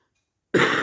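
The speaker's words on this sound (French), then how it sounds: "je tousse, mais c'est que j'ai chopé une bronchite" After half a second of silence, a single harsh, close cough from someone with bronchitis bursts out loudly and breathily.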